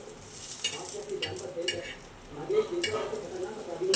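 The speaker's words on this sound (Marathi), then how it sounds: "छान तळून कमी गॅसवर" Taro leaf rolls (aluvadi) frying in oil on low heat, a soft continuous sizzle with faint scraping and stirring sounds, some quiet talk faint underneath.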